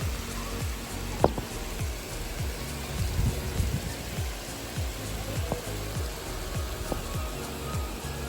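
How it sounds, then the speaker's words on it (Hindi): Heavy rain pours steadily, a dense hiss of drops beating on surfaces with scattered louder splashes and drips, close and continuous throughout. "उठी तो देखी जोरों की बारिश हो रही है"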